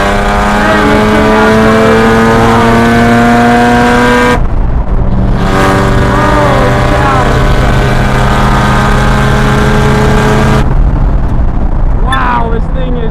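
A loud race car engine roars close up on a track, holding high revs with sharp gear-shift drops and rising pitch sweeps. Someone talks over it.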